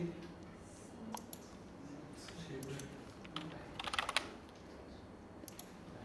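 Soft tapping and clicking of a computer keyboard being typed on, in faint scattered bursts with a quicker flurry of keystrokes near the end, over quiet room noise.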